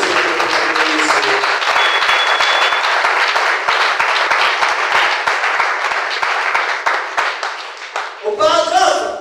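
A church congregation applauds loudly and continuously for about eight seconds, dense clapping that thins out briefly before a voice begins speaking at the end.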